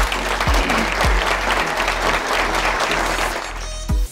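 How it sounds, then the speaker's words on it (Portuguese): A room of guests applauds at a business breakfast held by the Sorocaba Commercial Association as a company founder is welcomed. Dense, steady clapping fills the whole stretch, loud and close, with a low hum underneath. "todos que sejam recebidos com uma salva de palmas"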